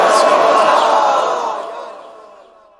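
A large religious gathering answers a slogan call with a loud, unified shout that rings out and then fades away over about two seconds.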